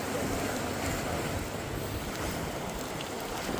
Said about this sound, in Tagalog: Malakas ang alon sa ilalim.